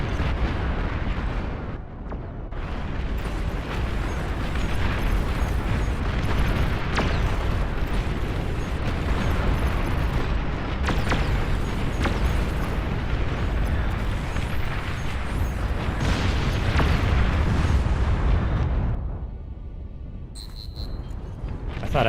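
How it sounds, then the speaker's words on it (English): Nuclear missiles launch and detonate in the strategy game Beyond All Reason, with a long, dense rumble of heavy explosions and booming blasts building and rolling on for nearly twenty seconds before fading, followed by a quieter tail. "if you've got nukes, then it's only fair for me to fire my nukes"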